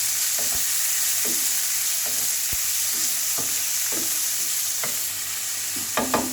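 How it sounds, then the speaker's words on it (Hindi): Chicken fried rice sizzles steadily in a hot pan while a spoon scrapes and stirs it in regular strokes, a close, constant frying hiss throughout. "इसको अच्छी तरह भून लेना है।"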